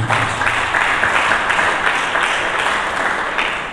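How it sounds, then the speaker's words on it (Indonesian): A church congregation applauds steadily during a sermon, a dense wash of many hands clapping at an even level for several seconds. "Mari kita berikan tepuk tangan."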